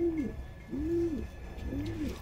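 A female Madras Giribaj pigeon gives three soft, rolling coos in an even rhythm, close by, over a low background hum.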